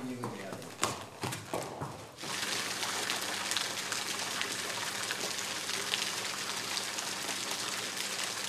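Steady rain falls on a barn, hissing continuously after a few sharp knocks at the start, a dense even wash of falling water that holds at the same level throughout.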